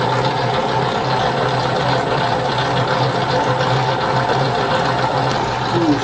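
A dough mixer kneads Neapolitan pizza dough of flour, salt, water and olive oil at second speed, around 200 rpm, giving off a loud, steady mechanical hum and rumble that continues unchanged throughout.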